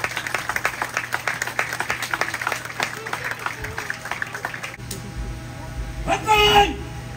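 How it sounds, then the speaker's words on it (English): A round of applause from an audience at the Micronesia Expo 2024 on Kosrae State day, dense clapping for about five seconds that fades, followed by a voice speaking over a quieter background. "Give them a round of applause, please."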